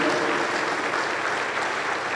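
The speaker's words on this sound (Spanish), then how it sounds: "Aplauso para el Señor Jesús." Church congregation applauding during a worship service in Huancayo, a dense, steady wash of many hands clapping at once, continuous and fairly loud throughout with no voices standing out.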